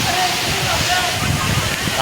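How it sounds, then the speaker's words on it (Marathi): Steady, broadband rush of Barki waterfall in monsoon, loud and continuous, with faint voices underneath. "खूप छान धबधबा आहे"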